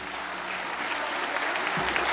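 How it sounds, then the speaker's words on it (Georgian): Loud continuous clapping from an audience applauding children at a dance ensemble's jubilee evening, a dense even roar of hands throughout. "ბრავო ბავშვებო ტაში"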